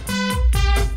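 A sustained synth pad chord with stock chorus effect, shimmering and slightly wavering, swelling and shifting over a short stretch.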